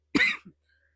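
A sick woman living in a van during a snow and ice storm gives one harsh, close cough that trails into a short throat-clearing grunt, then silence.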